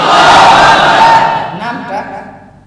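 A mosque congregation loudly chants Marhaba and takbir in unison, a dense roar of many voices that peaks early and then trails off into scattered fading calls.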